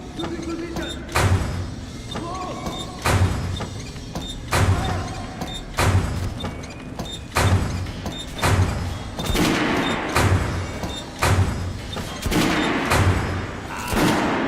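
Kalashnikov rifle fired on a shooting range in Metro Last Light, a loud sharp report repeating roughly every 1.5 seconds in a steady slow cadence, each shot booming with a short tail.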